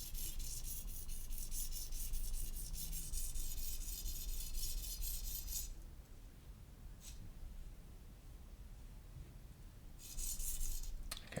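Steady rhythmic scraping of a knife blade against a slightly dry whetstone, loud and close, pausing midway before the grinding strokes resume.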